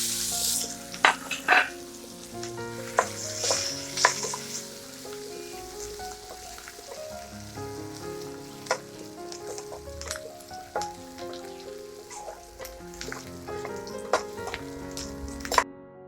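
Onions frying in hot oil with fenugreek seeds and split green chillies for an Assamese tomato fish curry, a steady close sizzle with scattered crackles and pops throughout, no voices.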